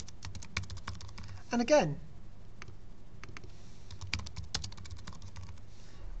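Typing on a computer keyboard while writing code: scattered individual key clicks and short bursts, close and fairly quiet, with a brief spoken phrase partway through.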